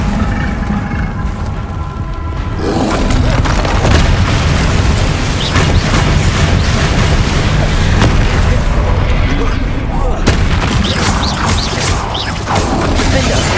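A Confringo blasting curse explodes in Hogwarts Legacy in rumbling, crashing bursts amid continuous loud combat noise, with a voice shouting spell names over the action.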